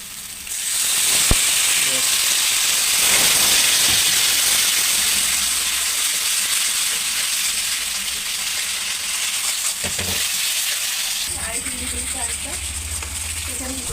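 Spice masala for a Bengali chicken dish fries loudly in a pan after a splash of water, a dense, continuous sizzle and hiss that stays strong throughout, with a few clanks of a utensil and a voice speaking over it.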